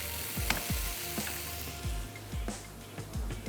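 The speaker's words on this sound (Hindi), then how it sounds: "हल्का सा सौते करेंगे।" Chickpeas sautéing lightly in oil in a pan give a steady soft sizzle, with repeated low scraping strokes of a spoon against the pan at a near distance and no talk.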